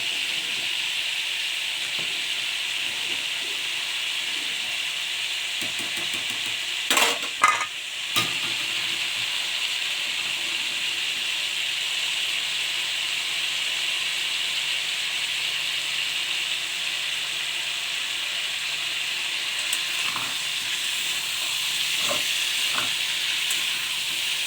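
Crabs fry in a spoon each of white oil and mustard oil, a steady moderate sizzle and hiss running throughout, with a few brief clatters of stirring and pan contact.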